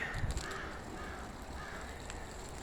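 A few crows caw in the distance, hoarse calls spaced out over a low background rumble.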